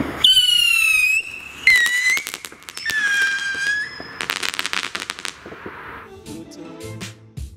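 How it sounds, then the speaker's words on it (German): Funke caliber B whistling rocket with three-stage silver crackers going off: three loud descending whistles in quick succession, then a dense run of sharp cracker pops fading out. "Funke Pfeifrakete Kaliber B mit 3 Stufen."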